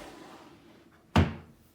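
A desk drawer in a craft studio is opened, giving a single short thunk up close with a quick decay, heard alone.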